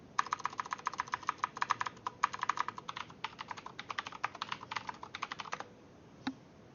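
Rapid, close keystrokes clatter on a computer keyboard as a password is entered, an uneven burst of clicks lasting several seconds before stopping, then one last isolated key press after a short pause.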